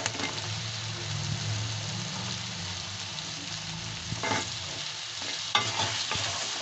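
Cut potatoes fry with spices in a pan, a steady broad sizzle punctuated by a few scraping stirs near the end, with no voices.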